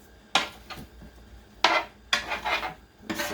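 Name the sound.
stirring parsley potatoes in a pan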